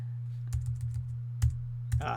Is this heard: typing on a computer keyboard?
yes